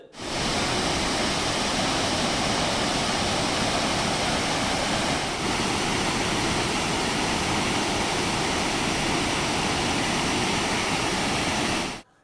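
Heavy monsoon water roars down Thirparappu waterfall in Kanyakumari district after continuous rain, a loud, steady broadband rush that holds unbroken for about twelve seconds with no voices.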